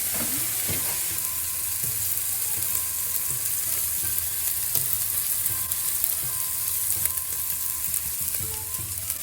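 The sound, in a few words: wagyu steak searing in its own beef fat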